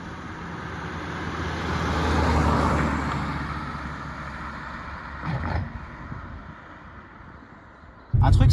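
Alfa Romeo 156 2.4 JTD diesel car driving at full throttle, a steady road and engine roar that swells and eases, with a brief rush midway and a louder burst of wind or engine noise near the end.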